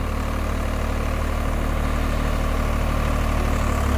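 A Swaraj 855 4x4 tractor engine runs steadily at about 1500 RPM in high gear and two-wheel drive, a loud, continuous low diesel rumble with no break and no talk over it.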